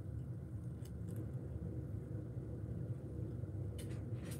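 A car engine idles steadily at a car auction, a low continuous rumble close by with a few faint clinks over it.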